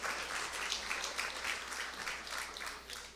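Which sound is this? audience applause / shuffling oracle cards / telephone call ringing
audience applause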